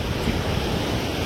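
Floodwater rushes forcefully in Solapur, Maharashtra, a dense, loud, continuous roar like heavy surf, mixed with wind buffeting the microphone.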